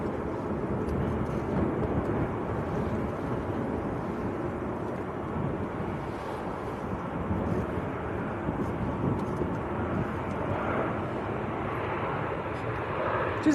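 A Singapore Airlines Airbus A350-900 taxiing at Manchester Airport on a misty day, a low, steady engine rumble heard from a distance with wind noise on the microphone, continuous and fairly faint throughout.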